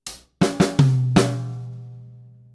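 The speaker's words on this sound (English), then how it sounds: "so that 2-beat fill starting on the 3 sounds like this." A drum kit plays a two-beat fill across hi-hat, snare and high tom: four sharp hits in quick succession, the last tom ringing and decaying, close and loud with no talking.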